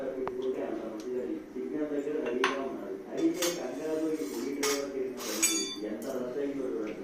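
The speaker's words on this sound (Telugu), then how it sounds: "ఈ చెంచా తీసుకొని ఇట్లా కలపాలండి. బాగా ఇట్లా కలుపుడు కలపాలి." Metal spoon stirring eggplant tamarind stew in a pot, clinking and scraping in an irregular run of close taps while someone talks over it.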